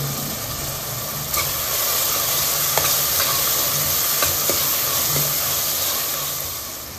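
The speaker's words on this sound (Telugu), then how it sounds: "మనకు ఉల్లిపాయ ముక్కలు తొందరగా ఫ్రై అవ్వాలి" Onion pieces fry in hot oil in a pan for a goat head meat curry, giving a loud, continuous close sizzle with a few sharp clicks of stirring over a low hum.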